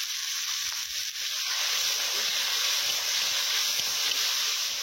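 Onions and tomato fry in a pan with turmeric and salt, giving a steady, close sizzling hiss with tiny crackles throughout and no talking.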